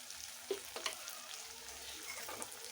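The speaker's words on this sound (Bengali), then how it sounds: "ভালো করে নাড়াচাড়া করে নেব" Slit green chillies, cumin and coriander powder fry with chicken in a pan, giving a soft, quiet sizzle with a few faint scrapes of stirring.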